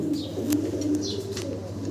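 Blue-bar German Beauty Homer pigeons coo in low, soft, continuous rolling calls, close by, with faint scattered chirps from other birds in a loft.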